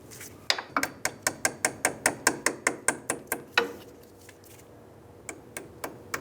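A click-type torque wrench ratchets a castle nut tight on the front wheel hub of a 2003–2009 Toyota 4Runner, giving a quick run of about fifteen sharp, evenly spaced clicks, a pause, then a few more single clicks.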